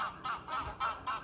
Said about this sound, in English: as always, the geese are out